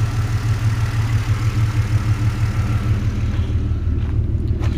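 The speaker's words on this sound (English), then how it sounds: "Car's sounding good, running good." A 4.0-liter V6 car engine fitted with long tube headers idles with a steady, deep, throbbing low rumble that stays constant and fairly loud throughout, with no talking over it.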